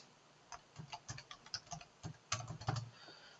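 Keys clatter on a computer keyboard as a password is typed, a quiet, close series of irregular taps in short bursts with no speech.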